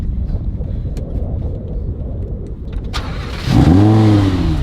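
A Lamborghini engine cranks and fires at about 3.5 seconds, settling into a loud, deep idle with a rising rev. Before the start there is only a quiet rumbling background. No one speaks.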